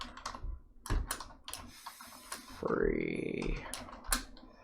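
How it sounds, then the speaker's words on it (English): Quick clusters of close computer-keyboard keystrokes clatter on a keyboard perched on a stool, with a brief spoken word and a short mouth-made whoosh between bursts of taps. "I'm having typing issues today. My keyboard's kind of like balanced on the stool. It's kind of hard to type."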